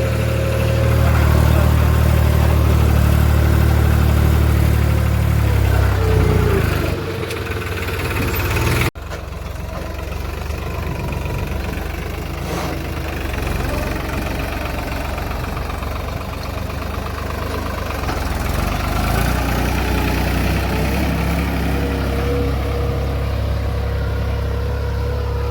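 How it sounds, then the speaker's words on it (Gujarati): Tractor engine running while ploughing a cotton field, a steady heavy diesel drone throughout, louder and deeper at the start, then a slightly lighter, continuous rumble. "ટ્રેક્ટર ચલાવી રહ્યા છે"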